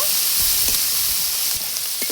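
Spices fry in a pan for a fish and brinjal dish, giving off a close, continuous sizzle and crackle with a few soft stirring scrapes.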